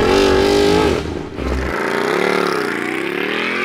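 A Ducati 1199 Panigale S superbike pulls away hard from a standing start, its engine loud and near, rising sharply, briefly dipping at a gear change, then climbing again.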